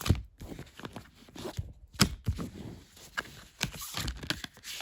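Cards are riffled and shuffled in quick, papery bursts, some sharper snaps among them, close up and with nobody speaking.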